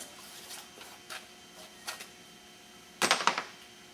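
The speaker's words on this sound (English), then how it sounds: "We'll next remove the belt from the machine." The belt pulled off a Burr King belt grinder, faint light clicks and taps from the machine, then a louder cluster of rattling knocks near the end, with no talking.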